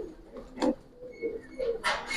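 Giribaz pigeons in a loft give a few soft, low cooing calls spread across the moment, with faint rustling and background noise between them.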